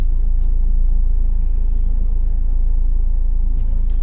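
Steady, loud engine rumble of a motorcycle coming in from the left on a city street at a junction, a continuous low drone filling the whole stretch without fading.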